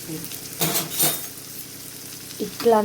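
A sharp-edged spoon stirs and scrapes potatoes frying in a pan, making a few quick scraping strokes and light clinks over a soft background sizzle.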